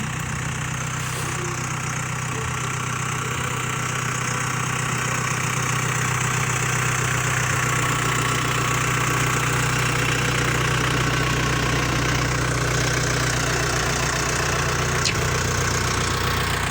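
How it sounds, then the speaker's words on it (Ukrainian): A tractor engine idles steadily and loudly close by, a low droning rumble with a rhythmic knock that continues unbroken throughout. "Як приємно робить трактор."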